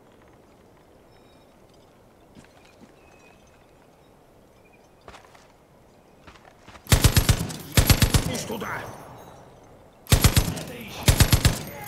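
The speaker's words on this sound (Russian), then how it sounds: "Кто-то стреляет." Automatic gunfire in Far Cry 5 erupts in two loud rapid bursts of rattling shots, near and punchy, after a quiet stretch with a brief spoken word and scattered faint sounds.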